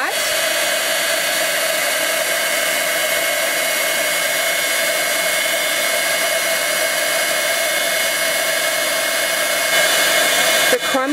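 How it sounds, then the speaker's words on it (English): A heat embossing gun blows loudly and continuously for papercraft heat embossing, a steady airy whir like a small hair dryer held close, with no break until it clicks off at the very end. "Then I'm going to heat emboss that with my embossing gun"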